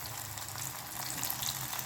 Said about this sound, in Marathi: सगळे पॅटीस आपल्याला अशाच पद्धतीने फ्राय करून घ्यायचे आहेत